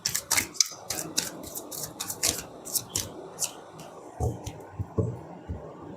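A tarot card drawn from a deck during a reading gives a series of crisp, close papery clicks and flicks in a steady rhythm, heard alone with no talk.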